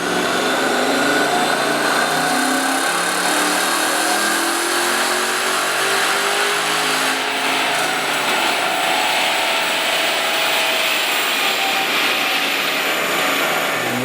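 A cammed 5.7 Hemi V8 pulls hard on a dyno, its roar rising steadily in pitch through a long sustained full-throttle run, loud and close with no speech.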